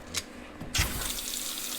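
Hot water from a faucet gushing into a kitchen sink just cleared with a sewer machine, a click followed by a steady close splashing stream that runs on continuously.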